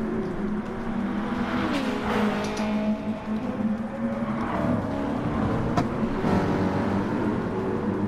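Porsche race car in a night racing video game at São Paulo, engine droning and revving steadily with rising and falling pitch, cars passing close throughout.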